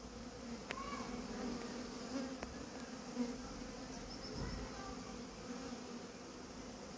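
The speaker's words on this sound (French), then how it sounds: "Les abeilles volent un peu, elles vont se regrouper." A steady insect hum of many honeybees buzzing and flying close by after being shaken from a box while being hived, continuous for the whole stretch with faint rustling underneath.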